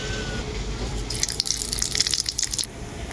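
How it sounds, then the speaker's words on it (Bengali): Black cumin seeds dropped into hot oil in a pan, giving a brief burst of sharp crackling and sizzling that lasts about a second and a half over a low background. "এই তেলের মধ্যে দিয়ে দেব কালো জিরে"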